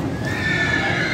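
A horse whinnies at a horse market (mandi) in Faisalabad, Pakistan, giving one drawn-out, close, loud neigh with a faint clatter of hooves underneath.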